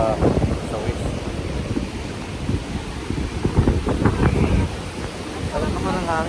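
Steady wind rushes across the microphone with surf in the background at a beach on Boracay in bad weather, while people talk nearby throughout.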